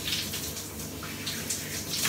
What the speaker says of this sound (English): nice and light, not too much pressure in the shower head